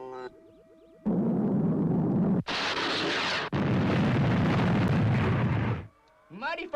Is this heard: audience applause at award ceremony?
no